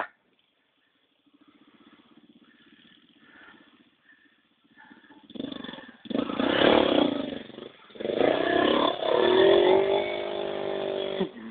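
A motorcycle on a dirt trail, running on tires without studs: quiet at first with a faint low engine hum, then a loud, rough, near engine roar and revving from about the midpoint to the end.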